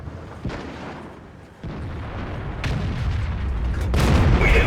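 A tank gun firing in the World of Tanks video game, a sharp heavy boom followed by a rolling rumble and engine drone that builds steadily, with further blasts after it, loud and close.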